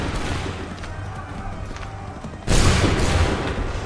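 A musket volley fired by a line of soldiers in Assassin's Creed 3, one loud broad blast erupting about two and a half seconds in after a stretch of battlefield murmur and shouted voices.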